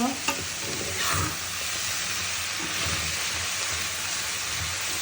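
Garlic tempering hisses and crackles with leafy greens in a hot pan, a steady close sizzle with occasional stirring scrapes throughout.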